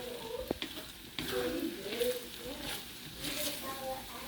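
Rice is stirred in a cast iron pan with the heat just switched off, a faint sizzle under scraping and shuffling from the spoon moving through the grains, close and steady.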